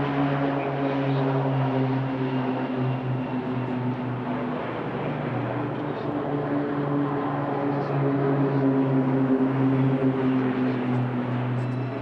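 Propeller aircraft of the RAAF Roulettes aerobatic team flying at a Richmond airshow, a steady loud multi-engine drone with strong harmonic hum holding throughout without talk.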